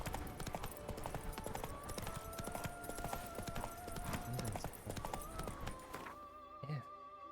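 Horse hooves clip-clop at a steady trot in The Witcher 3, a regular rhythm of close thuds over a low ambient game background, with a brief whinny or snort near the end as the hoofbeats fade.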